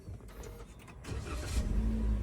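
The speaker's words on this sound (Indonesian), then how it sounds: "kita tekan tombol start stop engine-nya" A 2022 Toyota Avanza 1.5 G automatic fires up by push button: a quiet cabin gives way to a quick starter whir and the engine catching, then settling into a low, steady idle hum, heard from inside the car.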